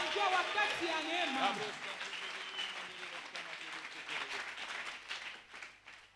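Church congregation applauding and calling out in acclaim during a worship service, steady dense clapping with voices shouting over it, loud at first and fading slightly toward the end.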